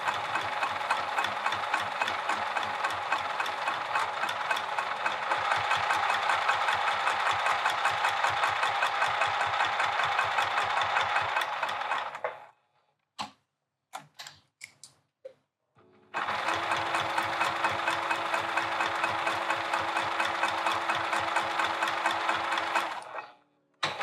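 A sewing machine sews a vinyl handbag closed with a steady, rapid mechanical rattle that runs for about twelve seconds, stops briefly with a few clicks, then resumes for another long stretch, close and loud.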